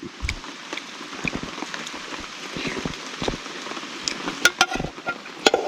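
Rain falls steadily on surfaces in a dense forest during a meal outdoors, with scattered nearby drips and louder splats over an even patter.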